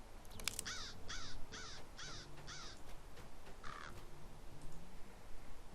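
Crows cawing on a farm in the online game LOTRO, a run of about five harsh caws in quick succession followed by one more after a pause, fairly close over quiet background ambience.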